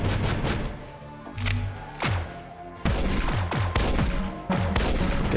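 Shotgun blasts in the space shooter game Astroswarm, a series of loud, punchy booms spaced roughly a second apart, each with a sharp crack and low thud over a steady game backdrop.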